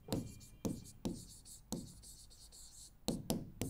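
Chalk or marker writing on a classroom board, with a series of sharp taps and short scratchy strokes at an irregular pace, fairly quiet and close.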